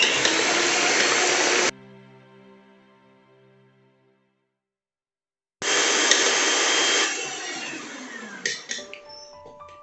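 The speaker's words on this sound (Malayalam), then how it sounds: "ഇനി നമ്മളിത് നല്ല ഈ ഒരു ഇലക്ട്രിക് ബീറ്റർ വെച്ചിട്ട് നന്നായിട്ട് ബീറ്റ് ചെയ്തെടുക്കും." An electric beater whips eggs for a homemade black forest cake, a loud steady whirring that stops abruptly, leaves a fading ring and silence, then starts again with clattering against the bowl.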